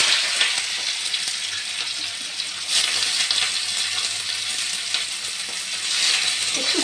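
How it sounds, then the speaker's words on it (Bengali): Onion petals frying in hot oil for veg manchurian, a continuous close sizzle with occasional stirring scrapes and clinks throughout. "পেঁয়াজগুলো দিয়ে দিচ্ছি"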